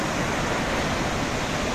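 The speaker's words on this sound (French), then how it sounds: "Ça c'est la cascade." A waterfall on the Trollstigen road in Norway roars as a dense, constant rush of falling water, loud and close, with no other sounds.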